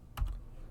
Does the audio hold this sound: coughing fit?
no